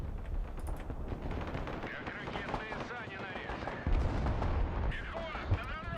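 Heavy artillery and gunfire from the Broken Arrow modern warfare game, a dense continuous barrage of booms and cracks with rolling low rumble throughout, a louder blast near the end.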